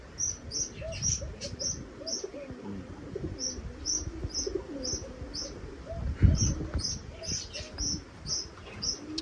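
Pigeons at a home loft coo in low, rolling murmurs beneath a steady run of bright, higher bird chirps, with a fuller burst of sound around the middle and no talking.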